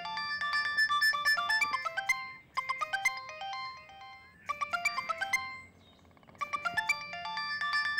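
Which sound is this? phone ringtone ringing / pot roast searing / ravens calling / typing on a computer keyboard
phone ringtone ringing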